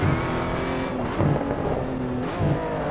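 A Lotus 98T race car engine in Assetto Corsa, a steady loud buzzing drone with slight pitch shifts as the car runs, heard alone without talk.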